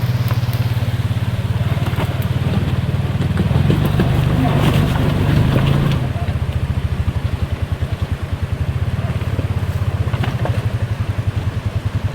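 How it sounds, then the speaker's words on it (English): A steady rush of a falling waterfall at a creek fills the scene, loud and constant, with the low mechanical rumble of a 2025 Can-Am Commander 700 running beneath it. "It's kind of noisy because of the waterfall."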